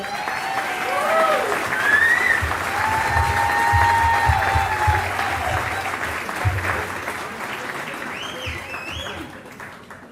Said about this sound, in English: So just give a hand of applause for her.